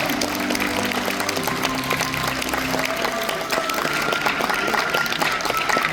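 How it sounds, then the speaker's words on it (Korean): Loud, dense applause from a large audience at a film's 50th anniversary ceremony, continuous throughout, with a low murmur and some music-like tones underneath early on. "여러분, 감독님 나오실 때 큰 박수 한번 다시 부탁드립니다."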